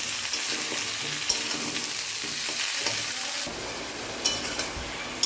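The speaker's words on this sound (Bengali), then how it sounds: "আগে আমি সবজিগুলোকে একটু সুন্দর করে ভেজে নিই।" Vegetables fry in a pan for a thin fish curry, a dense, steady sizzle close by that eases slightly midway, with a few faint clinks of a utensil near the end.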